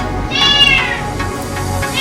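A pet cat meows insistently indoors during a makeup session, a few drawn-out rising-and-falling cries close to the listener over a low steady room hum.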